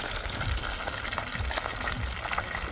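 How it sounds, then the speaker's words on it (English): Fish fry in hot oil over a wood fire outdoors in Jamaica, a steady dense crackling sizzle heard close up with no talking. "Still cooking, still frying."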